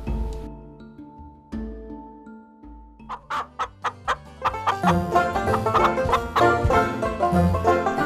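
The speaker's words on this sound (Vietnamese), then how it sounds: "mấy con gà mái nhà tôi bị mèo đuổi, bay sang vườn nhà quan" Hens cluck in an animated folk-tale cartoon after being chased by a cat: a sparse, stepped run of clucks builds into a fast, loud flurry of agitated cackling mixed with a busy musical backing.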